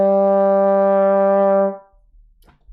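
Trombone sustaining a single G in fourth slide position, a full, steady brass tone held for almost two seconds, then cut off into near silence.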